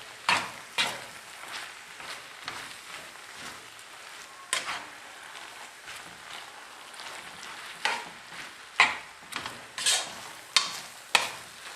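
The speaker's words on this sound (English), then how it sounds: "I'm going to add 2 eggs to this. Start mixing that." Eggs being stirred into chopped spinach in a bowl, with a series of soft, irregular scraping and clinking strokes, close and moderately quiet, with a few sharper knocks toward the end.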